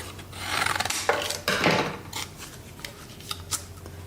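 Cardstock being trimmed for cardmaking, a close dry rasping and rubbing cut that rises to a few louder strokes in the first two seconds, then fades to light scuffs, with no voices.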